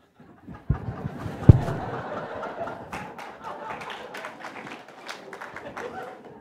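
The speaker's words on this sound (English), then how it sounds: "I don't know if you're clapping or crying" Scattered clapping rises from a church audience during a Sunday sermon: a couple of sharp isolated claps, then looser, uneven applause with murmuring voices and light chuckles underneath.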